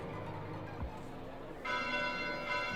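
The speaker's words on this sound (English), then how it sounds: "Bells? This late at night?" Bells ring late at night in Fire Emblem: Three Houses, a sustained metallic peal that swells in abruptly partway through and rings on steadily over a low soundtrack, with no talk during it.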